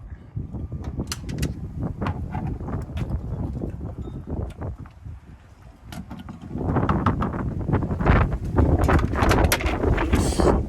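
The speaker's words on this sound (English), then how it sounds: "It's windy today." Gusty wind buffets the microphone with low rumbling roar, easing briefly midway before returning stronger and steadier.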